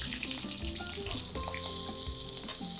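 White onions sauteing in olive oil in a hot pan, giving a dense, even sizzle that runs unbroken throughout, with faint clinks and tones over it and no voices.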